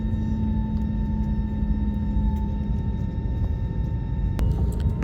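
An American Airlines jet taxis toward the runway, its engines giving a steady low rumble with a constant whining hum heard from inside the cabin, continuous and even throughout.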